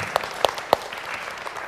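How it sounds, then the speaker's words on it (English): Short burst of audience applause, a dense wash of clapping with a few sharp individual claps standing out near the start, no voices. "Let's give a round of applause."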